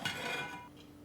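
Clinks of cutlery against a bowl as boiled eggs are lifted out one at a time and dropped into an ice bath, a few close, bright knocks over roughly a second with no talking.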